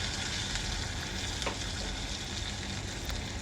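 Asafoetida and curry leaves frying in hot oil as a tempering for Chettinad village-style rasam, a steady, dense sizzle with no voices over it.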